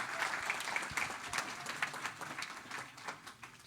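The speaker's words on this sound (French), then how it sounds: "On peut applaudir Roman encore," Hand clapping from a church congregation at a Sunday baptism service, honoring a man named Roman after his testimony; moderate, steady applause with scattered claps, no talk over it.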